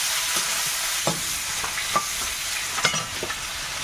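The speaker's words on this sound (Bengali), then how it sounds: "আর একটু গোটা জিরে দেবো একটু ভেজে নিলাম পেঁয়াজ কুচি দিয়ে দিলাম" Chopped onion and whole cumin, with dried chilli and bay leaf, fry in hot oil, giving a constant loud sizzle broken by light, irregular scrapes of a spatula in the pan.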